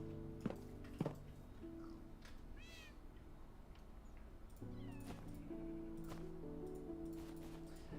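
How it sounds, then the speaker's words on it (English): Baby kitten meows from Minecraft sound out in several short, high, rising cries spaced across a quiet ambient background, with a couple of soft clicks and thuds early on. "The little kitten meows are so precious."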